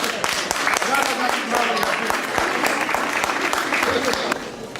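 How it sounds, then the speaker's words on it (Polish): An audience at a folk ensemble festival applauds, with sharp individual claps standing out over a continuous crowd patter and some speech mixed in before the clapping eases near the end. "Super, brawa wielkie."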